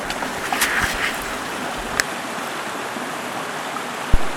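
Big Salmon Creek flows steadily nearby, a broad, even rush of running water with a few faint knocks and a soft thump near the end.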